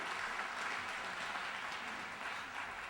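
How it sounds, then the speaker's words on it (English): A symposium audience gives a round of applause, a steady wash of many hands clapping heard at a distance, fairly faint and even throughout. "Can we give them a round of applause?"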